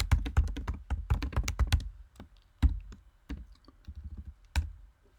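Someone types code on a computer keyboard: a quick burst of close, crisp key clicks, then slower scattered taps with pauses between them, no voice heard.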